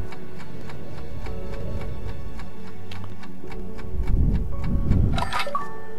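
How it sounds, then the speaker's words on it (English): A clock sitting on a chair by a bedroom doorway in Alan Wake ticks in an even, close rhythm, joined near the end by a brief low rumble and clatter. "You can hear it ticking, kind of."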